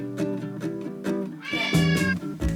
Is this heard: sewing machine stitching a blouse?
no